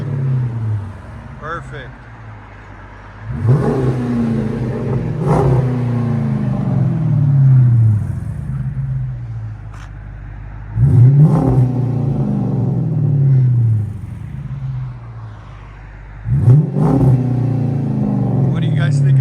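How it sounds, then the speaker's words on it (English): Chrysler 300C with a 5.7L V8 and NTR race mufflers with rear delete, revved three times; each rev flares into a deep, loud exhaust roar and then falls back to a rumbling idle, with brief talk early on. "Chrysler 300 with NTR race mufflers and rear delete"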